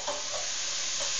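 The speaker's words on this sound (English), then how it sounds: "you hear that the meat is sizzling" Meat sizzling and frying in a hot pan, a steady broadband crackle with faint stirring sounds, loud and continuous with no talking.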